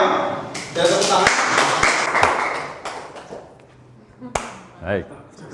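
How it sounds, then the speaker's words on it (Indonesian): A seminar audience at a business-sharing talk stands and applauds to welcome a guest speaker: a dense, fairly close wash of clapping that thins out, then a voice begins speaking near the end. "Mari kita sambut beliau. Saya tepuk tangan."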